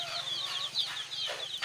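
A free-range hen on a farm in Bangladesh, expected to lay an egg, makes a steady run of close, repeated clucks and cackles, with no one talking.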